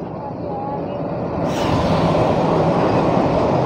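Train with two engines arriving on a rail line, a loud, continuous rumble and roar that grows stronger partway through as it draws nearer.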